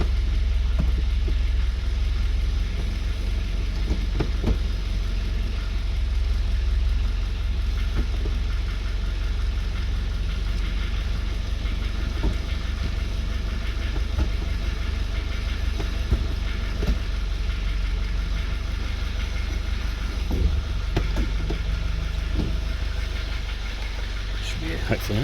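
An old yellow car's engine idles steadily throughout, a low continuous rumble with faint knocking and occasional clanks, loud and close, with some voices in the background.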